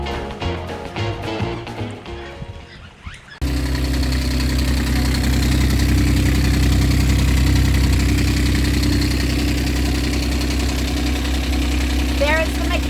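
A Nanni marine diesel on a sailboat starts up after a quieter stretch, then runs at a steady, loud, close idle with a low, knocking rumble that continues without a break.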